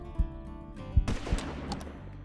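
Hunting rifle shots in the Hunting Simulator 2 video game, stalking elk: three sharp reports about a second apart, each ending in a short thump, over a low ambient hum with faint outdoor noise afterward.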